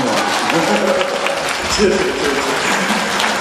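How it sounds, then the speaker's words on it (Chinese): An audience at a Los Angeles question-and-answer gathering claps steadily throughout, a dense even patter of hands, while someone speaks over the applause. "你们鼓掌不热情，台长讲不动了"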